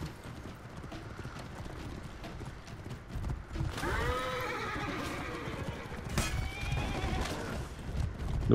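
Game horse in the For Honor battle setting neighing twice with clear whinnies over steady clip-clop of hooves, close and loud against a busy background.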